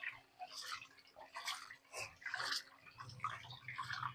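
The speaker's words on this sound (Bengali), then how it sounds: "ডালটা ধুয়ে আসি।" Lentils being washed by hand in water in a small kitchen, faint splashing and swishing in irregular bursts with light drips, quiet and close.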